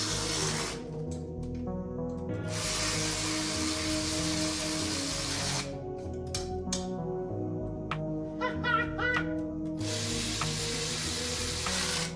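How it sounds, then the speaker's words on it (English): A ratchet tightens bolts on new exhaust gaskets for a Ford 351 V8 swapped into a Toyota AE86, giving close bursts of rapid metallic clicking separated by pauses over a steady low background. "I got new exhaust gaskets and bolts. Let's bolt them up and see what the hell happens."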